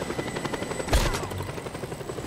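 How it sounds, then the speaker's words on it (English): A helicopter in the video game Just Cause 2 chops steadily with a rhythmic rotor beat, interrupted by one sharp, loud burst like gunfire near the middle. "What if I just skip the chopper"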